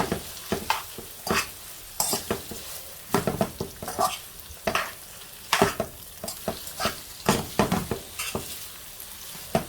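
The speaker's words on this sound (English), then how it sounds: "So I'm adding this into my stir fry." Vegetables sizzle and crackle in a hot pan for a stir fry beside salt and pepper chicken, with frequent bursts of stirring and scraping that recur in an uneven rhythm, close and moderately loud.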